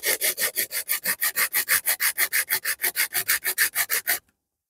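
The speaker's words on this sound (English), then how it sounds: "we'll just bring back the sandpaper and we'll just rub that off" Sandpaper rubbing down the top of a bamboo waggler float in quick, even back-and-forth strokes, about six per second, close and raspy, stopping abruptly into silence.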